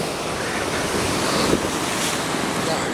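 Steady, dense roar of ocean surf on a hazy beach at Taghazout, Morocco, with broadband wash and wind buffeting the microphone, continuous and fairly loud with no clear break between waves.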